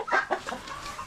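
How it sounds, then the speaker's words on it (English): A large rooster on a farm, in a snowy winter setting, gives a short run of clucks, two or three quick close calls that fade out within about a second. "Hank, our big giant rooster."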